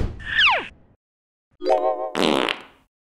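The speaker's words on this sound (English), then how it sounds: "I just come here to fart." Cartoon fart sound effects: a long descending squeaky toot, a pause, then two loud buzzy blasts in quick succession, close and alone with no talking.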